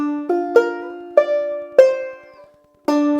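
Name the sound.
banjo climbing lick with slide on 2nd string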